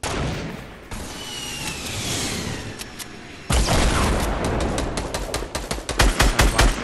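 Rapid automatic gunfire and sharp shots from a shooter video game, loud and close, stopping and starting in bursts that grow denser and punchier toward the end, with no talking over them.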